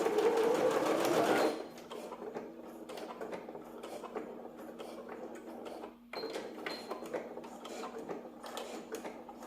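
A sewing machine stitches elastic onto a gathered wax-print fabric skirt, with a loud fast burst at first, then a quieter, steady rhythmic clatter of the needle running on.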